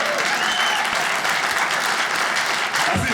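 An audience at a stand-up comedy special breaks into steady, dense applause, loud and sustained the whole way through with no voice on top.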